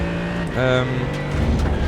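Mercedes-AMG GT3 2020 race car in the iRacing sim dropping down through the gears to first, a loud, close engine note that steps up in pitch with the downshift and then holds a steady drone, with faint tyre noise underneath.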